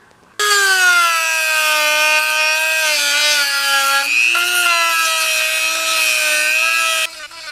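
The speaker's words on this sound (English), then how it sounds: "the best trick is just don't run these inexpensive little grinding tools, the little sanding disc" Small inexpensive grinding tool fitted with a sanding disc, working on a motorcycle wheel rim for a custom GS1100E build: a loud, steady, high-pitched whine held for about seven seconds that dips slightly in pitch under load, then cuts off.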